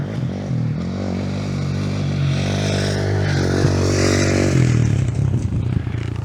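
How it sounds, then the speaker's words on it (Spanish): Motorcycle coming along a dusty dirt road on the Mediterranean coast, its engine rising steadily in loudness as it nears and passes close by, with scraping and clattering road noise. "Acabo de escuchar una moto. Mira que viene el tío con la moto."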